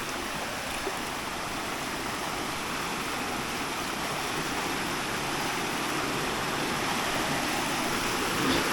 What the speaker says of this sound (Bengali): পানির এত পরিমাণ শব্দ যে কাস্টমসের মেইন গেট দিয়ে পানি প্রবেশ করতেছে।